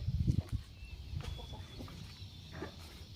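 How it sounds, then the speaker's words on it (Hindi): A chicken on a farm with calves, clucking in short, scattered calls, near and fairly soft, with low rustling and shuffling noises beneath and no talking. "देखो ये मुर्गी है"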